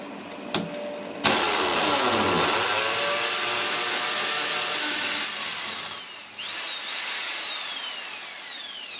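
A power drill bores into a wall during a dust-free installation: a loud, steady whirring drone that runs for several seconds, eases slightly, then rises again with a brief change in pitch.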